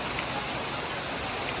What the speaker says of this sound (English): A storm in June with hail.